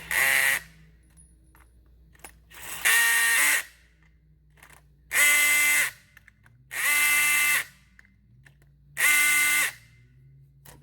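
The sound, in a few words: tightening bolts on cable suspension assembly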